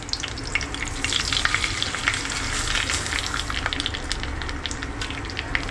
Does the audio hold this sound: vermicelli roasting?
yes